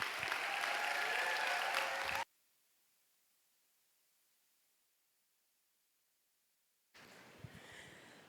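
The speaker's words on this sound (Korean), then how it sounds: "우리 베이스 교수님 뜨거운 함성과 박수로 맞이하겠습니다" A church youth worship crowd claps and cheers to welcome a professor to the stage, a bright wash of applause that cuts off abruptly into silence, then returns as softer crowd noise.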